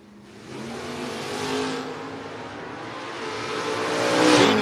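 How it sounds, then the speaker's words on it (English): A 1967 Chevrolet Camaro and a 1969 Chevrolet Camaro launch at a drag race, engines roaring up in a rising rev that swells loudly toward the end of the brief burst. "She's got the 67 Camaro on the Octane 94 side. ISC Sales Masters sponsored hot rod against Steve Dickey's 69 Camaro."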